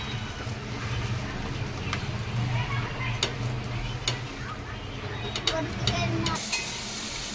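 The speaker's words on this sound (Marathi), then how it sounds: "मस्त बटर टाकलंय आणि आता हे जे पाव आहे ते छान आपण गरम करून घेतले" Butter sizzling steadily in a hot pan as pav bread rolls warm for Mumbai anda pav street food, a constant frying hiss broken by occasional light clicks and scrapes.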